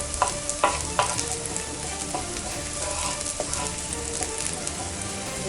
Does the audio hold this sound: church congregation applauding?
no